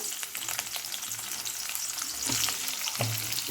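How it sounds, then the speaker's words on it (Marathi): Chopped onion frying in a little oil in a kadhai, a dense close sizzle with a few stirring scrapes. "या तेलामध्ये आपण टाकून घेऊ आपण कट केलेला कांदा"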